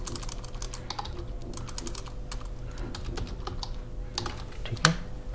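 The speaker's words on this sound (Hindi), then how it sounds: "टेक्स्ट टाइप कर देता हूँ" Rapid keystrokes on a computer keyboard while entering the text "graphic designer" in Adobe Illustrator for a business card design, a steady run of close, light clicks with one sharper tap near the end over a faint background hum.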